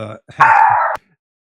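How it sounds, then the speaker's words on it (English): A dog barks in a home during a conversation, a couple of short yips followed by one sustained, loud howling bark, close to the microphone, while people talk around it. "Sorry, my dog."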